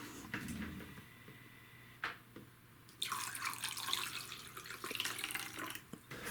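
Distilled white vinegar pours into a humidifier tank, a soft watery trickle that swells into a louder, steady gush midway, with a few small clunks before it.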